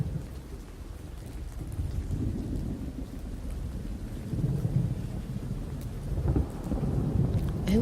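Rain and thunder in the video game Oknytt: a dense low rumbling wash of storm with steady rainfall, swelling slightly toward the end, with no talking.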